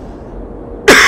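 A single sharp cough bursts out close and loud at the end after a near-silent pause.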